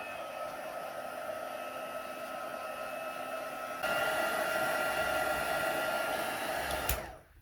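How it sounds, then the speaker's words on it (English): A heat tool blows steadily to melt clear embossing powder on a stamped card, a close, even whooshing hum that steps up in intensity partway through and then shuts off. "And bringing in my heat tool."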